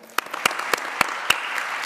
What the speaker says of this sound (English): thank the panelists with a great applause